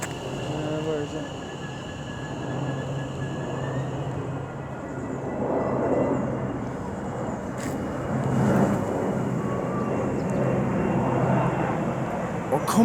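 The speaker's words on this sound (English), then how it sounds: "And I think we've got a plane as well, heading into Birmingham Airport." A plane passing over toward Birmingham Airport at Erdington, heard as a broad, steady rumble that swells around the middle and lingers, with people talking quietly over it.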